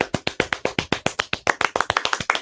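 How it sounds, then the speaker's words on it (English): Loud, close applause in a morning talk-radio studio: a few people clapping in a quick, sharp, even rhythm of distinct claps that speeds up slightly toward the end, no talk over it. "We have loud applause here in the studio."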